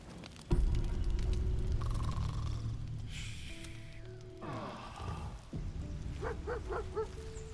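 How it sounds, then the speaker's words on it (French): A dog in Baldur's Gate III gives a sharp bark and short yips and whimpers amid game ambience and a low rumble, fairly close and moderately loud, without speech. "Oh le chien, il y a Gratouille."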